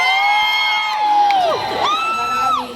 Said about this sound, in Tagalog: Wala din po ba hiyawan dyan?